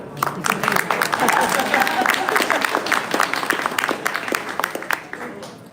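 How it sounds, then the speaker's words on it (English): An audience at a live climate-law event claps in a dense, sustained round of applause filling the room, gradually thinning toward the end. "I think that deserves a clap."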